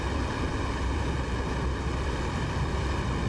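Steady, loud broadband roar of an F-4E's jet engines during the takeoff roll in the DCS flight simulator, a dense continuous rumble with no talking.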